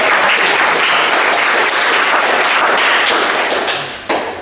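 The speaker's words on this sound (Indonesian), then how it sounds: "tepuk tangan untuk kelompok 2" Loud, dense clapping from a group in a classroom nearby, sustained and even, then easing off slightly toward the end with a final thump.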